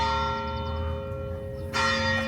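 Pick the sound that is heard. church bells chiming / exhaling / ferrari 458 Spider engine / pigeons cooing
church bells chiming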